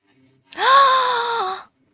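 A female game character in a KFC dating sim lets out a single drawn-out breathy gasp, clear and close, rising then holding for about a second with no other sound around it.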